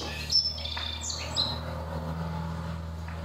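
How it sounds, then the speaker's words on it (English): Amateur field recording of bird song: several bright chirps and short whistled phrases ring out early, with faint calls continuing over a steady low background hum. "the bird songs that you can hear were recorded in the areas where the women were working"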